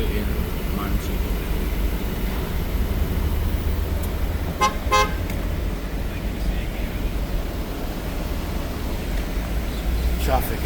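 Busy street traffic in Montego Bay, Jamaica, with a steady rumble of passing vehicles, a couple of short car horn toots in the middle and another near the end, while someone talks over it.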